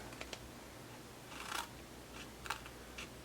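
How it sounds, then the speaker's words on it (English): Scissors snipping along the score marks of a paper treat box for a handmade card, a few separate crisp cuts spaced apart, close and quiet, with no voice. "we are going to cut on the score marks on our box"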